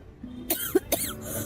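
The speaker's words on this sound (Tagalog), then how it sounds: "Hanggang ngayon, inuubo ka pa rin?" Two or three short, sharp coughs in quick succession, close and moderately loud, with no talking.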